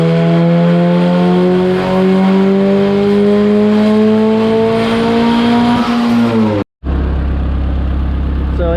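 An Acura Integra with stock sleeves, pistons and rods on pump gas and a newly fitted 4-bar MAP sensor revs on a dyno, its engine note climbing steadily and loudly for several seconds before cutting off abruptly, followed by idle rumble.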